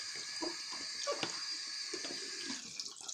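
Water running over an SHM-41 gas mask as it is rinsed, a steady close hiss of flowing tap water with scattered splashes and drips, no talk.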